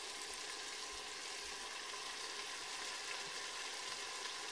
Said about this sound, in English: And I'm going to add the port wine and the balsamic vinegar.